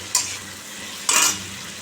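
Onion, green chili and tomato sautéing in a pan for egg curry, with two quick, fairly loud spatula scrapes over a soft sizzle and no voices.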